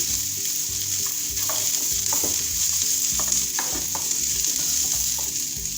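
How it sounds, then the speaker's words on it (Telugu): Cashews and almonds fry in a pan for a mixed vegetable kofta curry gravy, giving a steady close sizzle with repeated scraping stirs throughout and no talking. "ఇవి ఇంకొక 5 నిమిషాలు వేయించుకుందాం."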